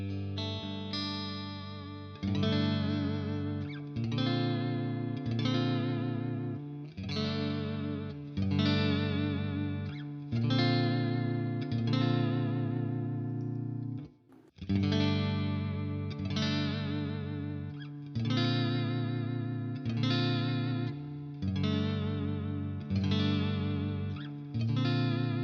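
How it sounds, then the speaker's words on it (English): An electric guitar played through a modeled Fender 65 Twin Reverb amp with a cabinet impulse response plays a continuous run of strummed chords with chorus-like shimmer, steady and full, with one brief pause midway. "I'm using Fender 65 twin reverb with the same IR."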